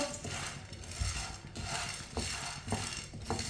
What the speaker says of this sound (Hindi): इसी तरह चम्मच चलाते हुए अच्छी तरह गर्म कर लेंगे।